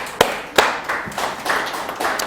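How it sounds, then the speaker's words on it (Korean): Congregation claps in praise at a Korean Thanksgiving Wednesday church service, a few sharp opening claps swelling into steady, moderately loud group applause with no talking over it. "하나님께 영광의 박수로."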